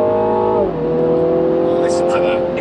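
A 2020 Mini Clubman JCW engine accelerating hard, a loud steady note that drops at a gear change then keeps climbing, heard from inside the car with people talking over it.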